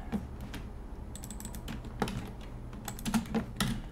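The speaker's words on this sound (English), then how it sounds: "I'm typing in the parts list for comparison here" Quiet, irregular clicking of keys on a computer keyboard, short bursts of typing with brief pauses, close by.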